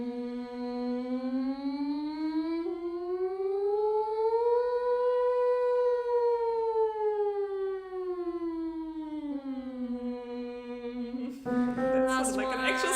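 Choir voices sing together in a sustained tone imitating a siren, slowly rising and falling like a wail, holding steady for several seconds before breaking off into noise.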